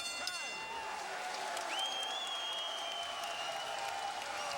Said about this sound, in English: And the crowd loves it here in Brooklyn.